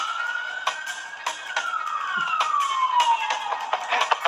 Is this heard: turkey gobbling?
no